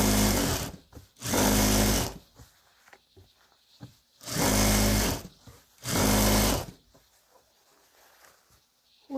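Sewing machine stitching over the edges of a baby quilt in four loud, steady runs of about a second each, separated by quiet pauses with faint handling noise.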